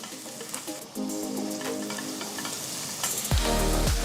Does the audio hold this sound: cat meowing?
no